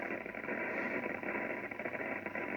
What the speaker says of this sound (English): And still a bit of static.